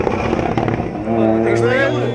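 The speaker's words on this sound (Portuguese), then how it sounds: "Aqui do outro lado da câmara parece-me ser o mesmo Ford Fiesta." A Ford Fiesta rally car passes on an asphalt special stage at a night rally in Lagos, Portugal, its engine roaring loudly and close with a rising pitch as it goes by under spoken commentary.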